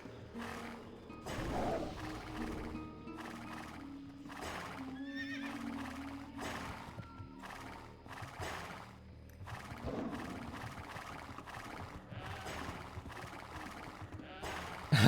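Horses in the game World of Warcraft neigh and whinny repeatedly over a steady run of hoof clip-clops, several animals close by, with no talking.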